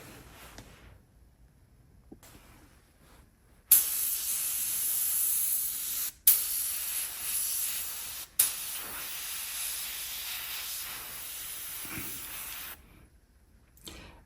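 Airbrush spraying paint onto a 3D printed figure, with three loud bursts of steady hissing air separated by brief cutoffs, and quiet gaps before and after.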